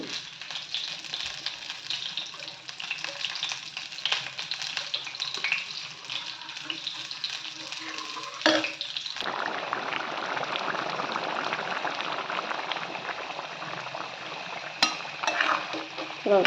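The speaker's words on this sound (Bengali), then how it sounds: "এদিকে ওদের ডিমটা কষানোর জন্য মশলা দিয়ে দিচ্ছি" Eggs sautéed with spices in a pan, a continuous close sizzling and bubbling hiss with occasional clinks and scrapes of a utensil, growing denser partway through, no talk.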